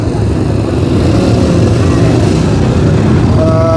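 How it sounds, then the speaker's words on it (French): A racing motorcycle at a circuit event drones steadily past, its engine roar loud and continuous for several seconds with a faint tonal whine near the end. "La moto de course."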